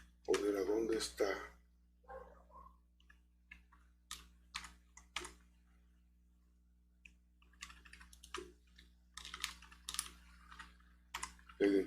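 Light clicks from a computer keyboard come in quick bursts and single presses, with an enter key being struck, under a nearby voice speaking.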